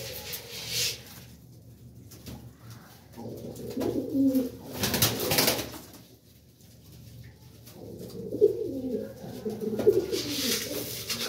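Pigeons being fed grain at night coo in soft, throaty bursts, close by, with flutters and rustling in between and a loud swell of cooing toward the end.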